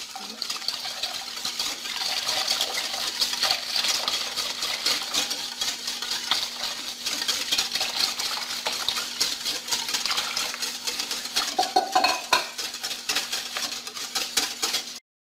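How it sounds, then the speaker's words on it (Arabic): A spoon stirs a mixture in a bowl while boiled milk is poured in little by little for homemade Moroccan raib yogurt, giving steady clinking and scraping with a faint watery swirl, close and continuous, with no talking. "غادي نبقى نضيف شويه بشويه وانا كنخلط."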